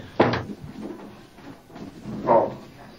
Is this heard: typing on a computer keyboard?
no